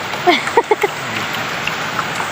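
Steady rain hisses across the whole stretch, with a few brief voice sounds near the start over the continuous patter.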